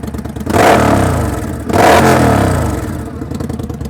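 Indian Scout cruiser motorcycle engine cranking over and catching, then two loud surging revs from a big, beefy low idle, with mechanical clatter between bursts; close and alone.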